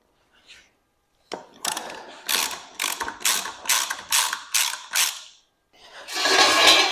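A ratchet clicks in a rapid series of about ten strokes while loosening the axle nut on an ATV front spindle, close and loud, ending in a sustained rasping burst with no talk.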